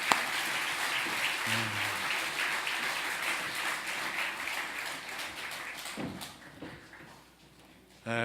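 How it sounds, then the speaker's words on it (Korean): A church congregation claps in sustained applause for a group of mothers during a worship service, the clapping fading gradually and ending with a quiet pause before a voice. "우리 큰 박수 부탁합니다"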